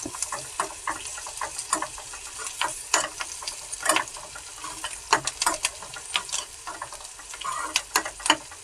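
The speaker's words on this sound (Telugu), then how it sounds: "ఆనియన్స్ కొంచెం వేగినంత వరకు, గోల్డెన్ కలర్ వచ్చినంత వరకు వేసుకోవాలా?" Onions fry in a pan on the way to golden brown, a continuous sizzle punctuated by frequent sharp scraping and clattering strokes of a spatula stirring them.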